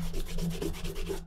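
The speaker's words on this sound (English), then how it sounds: "So just put a bit on your strop there." Jeweler's rouge polishing compound is rubbed onto a leather strop in quick back-and-forth strokes. The rhythmic scraping is close and continuous, then stops abruptly.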